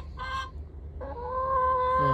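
Laying hens, 18 months old, cluck and call in short bursts, a few birds close by, with a steady low background hum.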